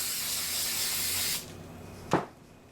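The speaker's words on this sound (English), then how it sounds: "give this a quick spray" Spray adhesive hisses from a can onto paper in one steady burst of about a second and a half, followed after a pause by a short sharp handling noise. The sound is close and fairly quiet.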